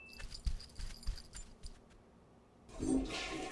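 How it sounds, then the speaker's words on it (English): A toilet flushing in a cartoon bathroom, a sudden loud rushing burst of water near the end after a few quieter clicks and bumps. "He clearly just flushed the toilet because he didn't have time to climb on top of it and actually use it."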